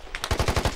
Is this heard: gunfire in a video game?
yes